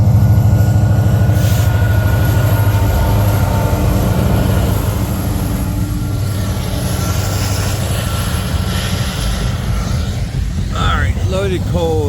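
A southbound loaded coal train rolls past on the railroad, a loud continuous rumble of heavy cars with rhythmic wheel clatter and occasional high wheel squeals, with someone talking over it.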